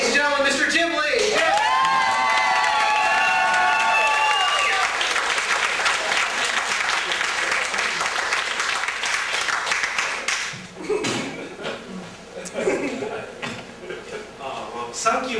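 A comedy club audience at the Ice House annex in Pasadena applauds and whoops during a comedy contest, loud sustained clapping with cheers that fades after about ten seconds into scattered claps and talk.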